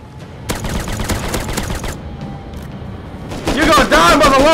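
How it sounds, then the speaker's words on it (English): Rapid shotgun and gunfire bursts crack in Rust, a dense volley of loud close shots in the first two seconds, then a pause before excited voices shout over more noise. "They came back with shotguns?"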